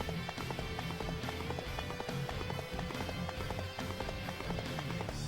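A horse gallops in a video game, with steady, rapid hoofbeats close up and continuous over a busy game soundtrack and no voices.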